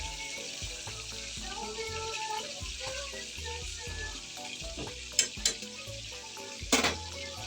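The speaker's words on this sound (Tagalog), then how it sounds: "malapit nang maluto yung aking pinipreto" Fish fries in a pan at home with a continuous close sizzle and crackle, broken near the end by a couple of sharper clatters or pops.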